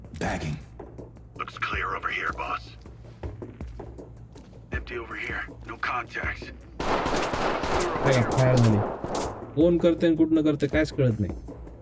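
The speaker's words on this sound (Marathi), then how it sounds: "त्यानं गोळ्या झाडल्या" Gunfire in the tactical shooter Ready or Not, scattered shots and short bursts mixed with game sounds, while someone talks quietly over much of it.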